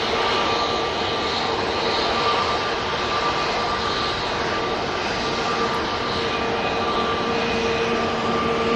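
A Ryanair jet bound for Dublin takes off at Manchester Airport, a loud sustained engine roar with a steady whine on top that holds strong throughout, no voices.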